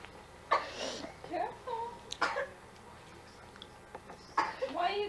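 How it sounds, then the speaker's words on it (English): A person coughs several times in short, harsh bursts spaced a couple of seconds apart, close by, with some voiced throat noises between them. "You're coughing."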